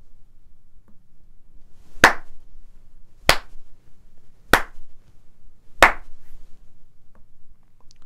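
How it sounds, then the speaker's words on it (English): Four single hand claps recorded into a software sampler, sharp and close, evenly spaced about a second and a quarter apart in an otherwise quiet room. "I can make a noise or a clap. So I'm going to do a clap for now"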